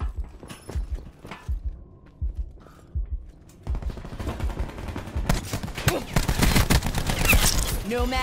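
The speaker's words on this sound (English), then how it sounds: "Cluster grenade." A cluster grenade detonates in the shooter Call of Duty: Black Ops 4, unleashing a chaotic burst of loud, overlapping blasts and crackles after a few evenly spaced thuds at the start.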